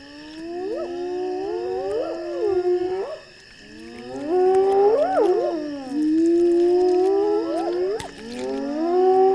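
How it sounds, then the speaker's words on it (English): Hyenas near a lion kill in the Zambezi valley give a chorus of rising, wailing whoops that overlap and repeat in waves, loud and sustained, with no voices. "Their wailing chorus attracts reinforcements."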